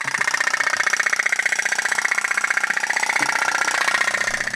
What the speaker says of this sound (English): Here's the oldest putt-putt boat I have. It was manufactured in Japan.